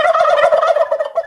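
A single loud, close turkey gobble sound effect delivers a quick, warbling burst of rapid throaty notes lasting just over a second.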